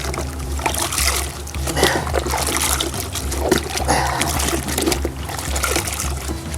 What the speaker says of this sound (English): So dirty mitt goes in the rinse bucket.